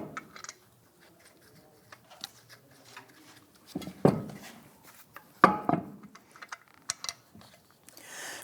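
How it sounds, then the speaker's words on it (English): Lug nuts threaded by hand onto the studs of a 1997-2006 Jeep Wrangler wheel, with sparse close metallic clicks and ticks separated by quiet gaps. "Get our lug nuts threaded on here."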